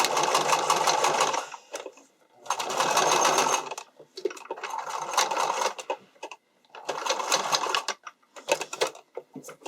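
A sewing machine stitches the seams of an underwire bikini top in several loud bursts, back and forth. Each run lasts about a second or two and is split by short pauses.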